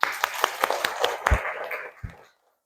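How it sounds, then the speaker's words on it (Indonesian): Children in a classroom Quran lesson clap together, a short run of fairly rhythmic, close, crisp claps with a thump or two before trailing off into silence. "Bagus sekali, tepuk tangan dulu nak."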